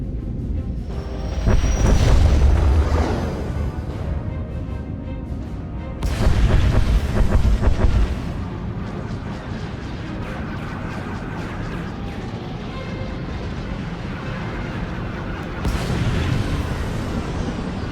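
Space bombardment in the sci-fi game SWTOR over Corellia, heavy booming blasts in three loud bursts, each rumbling for a couple of seconds before fading into a lower churning background.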